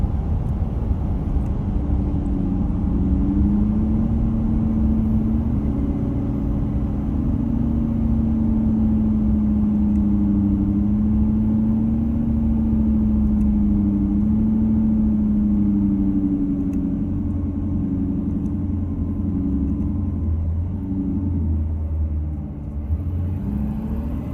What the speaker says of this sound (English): I'm gonna start downshifting now